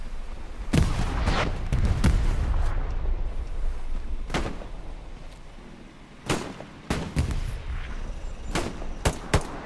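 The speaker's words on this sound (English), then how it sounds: "Throwing nades, smoke, and explosive towards the gate." Grenades and explosives go off at a gate in Hell Let Loose, a World War II shooter, with repeated sharp booming blasts and gunfire cracks over a continuous rumble of battle, loud and dense.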